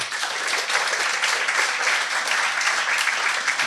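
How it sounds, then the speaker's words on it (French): Audience at a memorial ceremony at the Trocadéro applauding a speaker being invited to the microphone, steady dense clapping at moderate distance throughout, with no talk over it. "Je vous demande d'applaudir d'ores et déjà Serge Romanin,"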